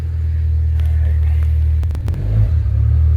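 A car engine idles steadily just after starting, a deep continuous rumble close by with a slight uneven surge near the end that may point to a misfire or a worn engine mount.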